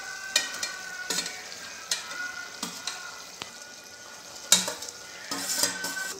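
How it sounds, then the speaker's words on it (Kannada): Vegetable curry sizzling in a pan as half a kilo of chopped capsicum is tipped in and stirred, with steady frying hiss broken by scraping strokes and light clinks of a spoon against the pan. "ಇನ್ನೇನು ಹುರ್ಕೊಂಡಿಟ್ಟಿವಲ್ಲ ಕ್ಯಾಪ್ಸಿಕಮ್ಮ, ಇದನ್ನ ಹಾಕೊಂಬಿಡೋಣ."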